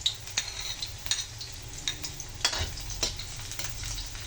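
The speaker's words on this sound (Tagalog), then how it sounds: "Ilagay natin ang ating bawang. Igisa natin ang ating garlic." Garlic sautéing in hot cooking oil in a pan. A faint, steady sizzle is broken by soft stirring scrapes and a few light utensil clicks, with no talk.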